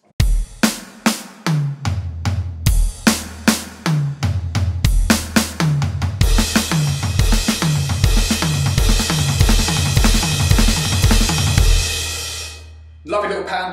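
Drum kit playing a 16th-note triplet beat in groups of six, with ride cymbal and bass drum opening each group, snare hits and high-tom-to-floor-tom runs, close and loud, building into a dense steady groove before a brief pause near the end.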